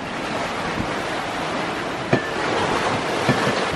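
Boat bow slamming through 2 to 3 foot ocean swells off Great Harbour Cay, a steady rush of surf and wind noise broken by a few sharp thuds as the hull hits waves.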